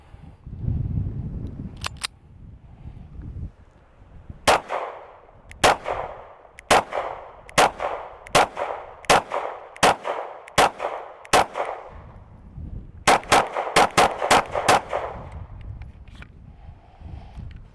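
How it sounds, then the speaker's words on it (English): Palmetto State Armory Micro Dagger 9mm pistol firing a full magazine: sharp, loud shots in a steady sequence of about nine evenly spaced rounds, then a quicker burst of five more, each followed by a short echo. "let's first run the mag that they sent through it and just see how it shoots here"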